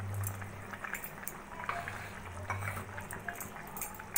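Mixed vegetables simmer in a pot for Bengali shukto, giving a steady, soft bubbling and hissing with a low hum underneath, continuous and close, with no voices.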